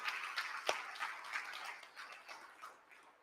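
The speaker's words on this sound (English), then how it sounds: "let's give them a round of applause for doing awesome worship today" Audience applause in a church after a children's worship set, a steady wash of many hands clapping at moderate distance with a few sharper individual claps, continuing without talk.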